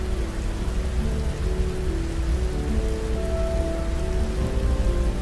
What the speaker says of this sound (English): Rainfall like this is common in the Tongass, with some parts of the forest receiving more than 200 inches a year.